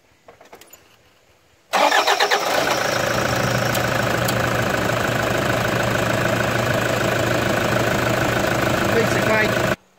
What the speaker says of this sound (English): So we'll just quickly try and start the car, and see if we can breathe life into it.